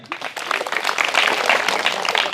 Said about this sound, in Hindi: गुरुजी के लिए तालियां।